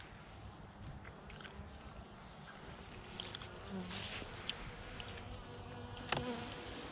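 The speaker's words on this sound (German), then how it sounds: "Hier sitzen die Bienen eher in der Richtung." Honeybees humming steadily inside a hive opened for a November winter inspection, a soft continuous drone with occasional brief knocks and clicks of frames being handled.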